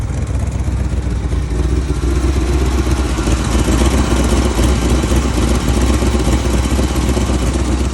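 A 1975 Ford F350 pickup truck engine starts and idles with a steady, loud, low rumble that holds an even throb throughout.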